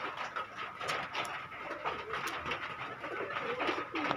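Pigeons coo at a pigeon seller's stall, soft calls blended into a steady, busy wash of market noise with no clear voices.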